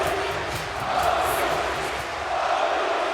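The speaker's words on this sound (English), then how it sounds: "he gets a lift from the crowd and is cheering Tony, Tony" A basketball crowd at a Eurobasket 2015 semifinal between Spain and France roars and chants a player's name in rhythmic bursts, a dense, distant wash of voices filling the arena.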